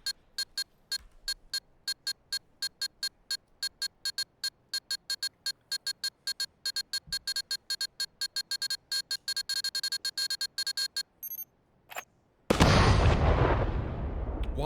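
A bomb in Pavlov VR ticks with rapid, regular electronic beeps that speed up, then detonates in a loud, roaring explosion that fills the last couple of seconds and slowly decays.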